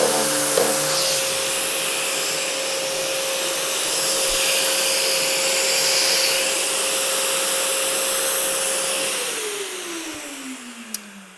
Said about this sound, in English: I hit my actual sander, hit the edge, vibrated, and you could damage your sander or damage the edge